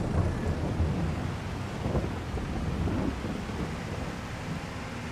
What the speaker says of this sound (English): Let's hope the rain doesn't last too long.